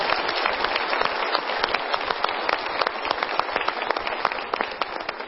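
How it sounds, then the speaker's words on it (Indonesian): Audience applause at a motivational seminar, a full room clapping steadily and fairly loud for several seconds with no speech over it. "Kita berikan tepuk tangan dulu ke KPK ya."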